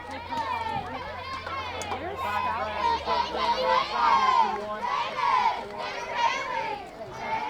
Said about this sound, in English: The Doniphan Donettes dugout comes to life, trying to cheer on their pitcher, wanting some runs